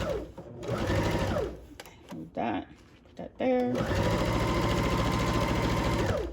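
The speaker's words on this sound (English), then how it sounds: "Set it where you want to start and press your sewing machine foot. Start the sewing." A sewing machine runs in fast, steady bursts of stitching, pausing briefly while a person speaks, then resuming loud and continuous.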